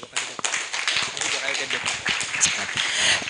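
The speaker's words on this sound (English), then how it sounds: "Another round of applause for Mr. Kule as he makes his way off the stage." Applause from a conference audience at the Laudato Si Africa Conference as a speaker leaves the stage, a brief spell of scattered claps over a spoken voice.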